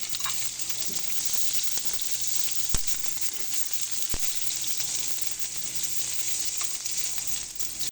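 Onion frying with tilapia in a hot pan gives a steady, dense sizzle throughout, with a couple of sharp pops and faint stirring scrapes, close and fairly loud with no voices.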